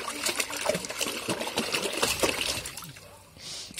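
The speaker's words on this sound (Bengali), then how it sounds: "মাথায় জল দাও মাথায়" Water pours and trickles over a child's head during a bath at home, a steady splashing dribble at close range with faint voices now and then.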